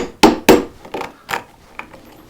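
A carving tool's steel tang tapped into its wooden handle to ream the hole: a handful of sharp knocks, the first two loudest, then lighter, irregular taps trailing off, close and alone.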